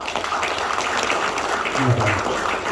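Audience applause at an Indonesian business seminar, a steady dense clatter of many hands clapping that fills the whole stretch, fairly loud and close, with no talk over it.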